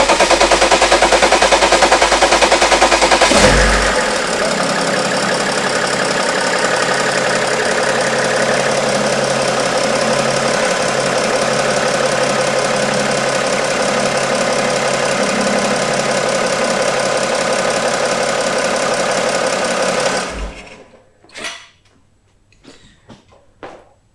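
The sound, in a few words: diesel car engine starting and idling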